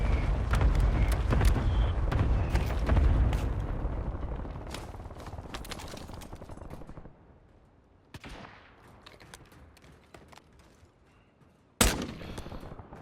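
Bursts of gunfire in the battle-royale shooter Warzone, dense and loud at first, thinning into scattered sharper shots, with one loud close crack near the end.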